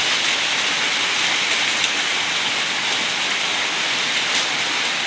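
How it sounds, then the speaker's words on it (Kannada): Heavy rain pours down in Kuwait, a dense, steady hiss of downpour with occasional louder drops, constant and unbroken with no voices. "ಇವತ್ತು ಕುವೈತಲ್ಲಿ ಸಿಕ್ಕಾಪಟ್ಟೆ ಮಳೆ ಬರ್ತಾ ಇದೆ"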